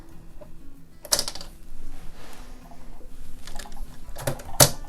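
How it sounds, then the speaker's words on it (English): A sewing machine top stitching fabric for a card holder wallet runs in a few short bursts of rapid clatter, separated by quieter pauses and faint handling sounds. "So I'm just going to top stitch right now."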